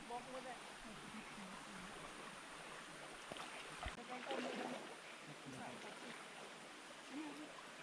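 A forest stream where children bathe runs with a steady rushing wash of water, and occasional splashes and voices sound faintly through it.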